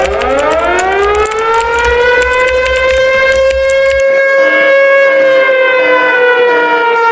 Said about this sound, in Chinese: 这是全面核打击警报。